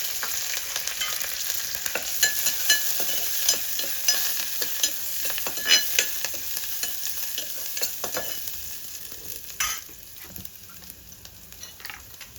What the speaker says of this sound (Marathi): फोडणीत लसूण कांदो आणि कढीपत्तो घालते